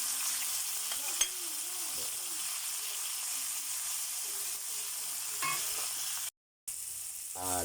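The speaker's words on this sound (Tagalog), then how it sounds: "Gigisa na po natin yung ating ginisang sayote. Lagyan natin yung bawang, buyas" Garlic, onion and tomato sautéing for a chayote dish, a soft steady sizzle with a few stirring scrapes and clinks, fairly quiet and close.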